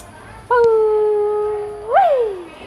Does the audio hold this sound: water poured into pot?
no